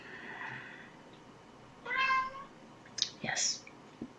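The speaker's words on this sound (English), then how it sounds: "Needy cats." A cat meows in several short calls, one longer cry and then quick follow-ups, fairly close over a quiet room.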